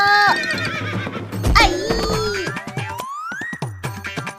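In a desi comedy cartoon, a mare gives a loud cartoon neigh. It rises and wavers over a few seconds, and some quicker bouncy sound effects follow close behind.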